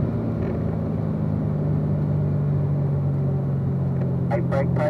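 A Corvette Z06 with automatic transmission holds constant throttle on a race track, its steady engine drone and road rumble heard from inside the cabin, with brief faint chirps near the end.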